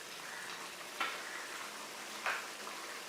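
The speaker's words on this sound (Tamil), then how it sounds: "நல்லா கொதிக்கட்டும்" A pan of egg curry with coconut milk simmers and bubbles quietly with a soft sizzle, broken by two brief stirring scrapes about a second apart.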